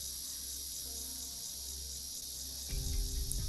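Continuous cricket chirring from Arknights game ambience, a bright shimmering trill held throughout, with a low game rumble swelling underneath toward the end.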